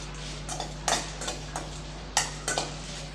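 Dry red chillies being roasted in a pan without oil, heard as sparse scraping and tapping strokes of a spatula against the pan, with a few sharper clinks over a steady low hum, no voices.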